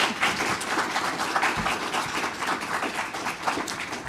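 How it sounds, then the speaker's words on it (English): A political forum audience applauding its candidates: steady, dense clapping from a crowd, moderately loud and sustained throughout with no pauses. "We would ask you to give these candidates a round of applause."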